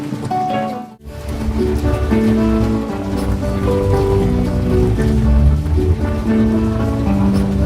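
Steady, dense wash of heavy rain drumming on a surface, loud and continuous throughout with a brief dip near the start.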